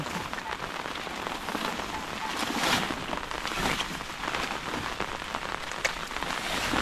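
Steady rain pours onto a surface during a typhoon, a dense patter of drops that swells slightly at moments, with no voices.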